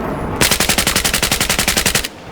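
A rapid automatic weapon burst from a console video game, firing into the dirt: roughly sixteen evenly spaced, loud shots in a steady stream lasting under two seconds, with no talk over it.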